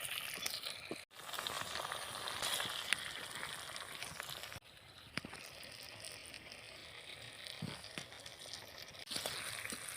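Chillies fry in a pan with a steady broadband crackle and hiss, broken by a few brief dropouts and occasional louder pops, with no voices.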